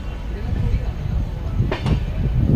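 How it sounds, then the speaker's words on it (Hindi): Katni–Chirmiri local train rumbling past the Pune–Danapur–Pune Express at a crossing, a steady loud low-frequency roll of rail cars with brief higher squeaks partway through. "ये कटनी चिरमिरी लोकल की क्रॉसिंग"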